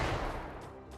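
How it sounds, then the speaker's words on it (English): A flashbang grenade goes off in the strategy game Xenonauts: a loud, dense blast that fills the whole second and barely fades, with no talking over it. "Fucking chuck a flashbang around the corner, though."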